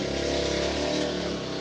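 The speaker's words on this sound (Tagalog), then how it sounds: "Skandaloso yung tricycle." A loud tricycle engine drones close by, a steady rough motor roar held throughout as it goes past.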